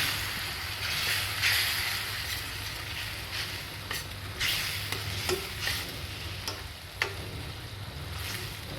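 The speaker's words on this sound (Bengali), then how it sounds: "যতক্ষণ না মশলা থেকে তেল উঠছে বন্ধুরা, ততক্ষণ আমি মশলাটাকে কষাবো" Spice masala of turmeric and coriander powder frying in a pan for chicken roast, a continuous close sizzle broken by irregular scraping stirs and a few sharp utensil knocks, with no talking.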